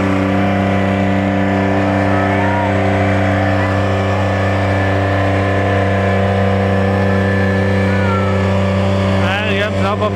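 Garden tractor roaring down the track at a tractor pull event, a loud sustained engine drone with steady harmonic tone holding for the whole stretch, close and dominant.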